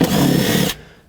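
Power tool whirring while removing 10mm bolts near the knock sensor harness of a Chevrolet Express 3500 van, a loud, close buzzing burst under a second that stops abruptly.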